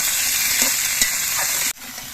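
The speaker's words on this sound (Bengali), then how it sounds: "এবার সবজিগুলো নাড়াচাড়া করে কিছুক্ষণ ভেজে নিতে হবে" Vegetables sizzle loudly in a hot pan while being stirred, with scraping strokes, before the frying noise abruptly drops lower.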